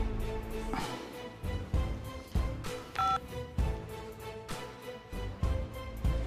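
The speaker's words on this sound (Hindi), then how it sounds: "मनोहर को फोन करते।" Rapid series of telephone keypad tones, one beep after another in an irregular rhythm, clear and moderately loud with no talking.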